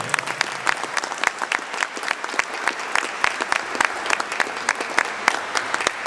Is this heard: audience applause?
yes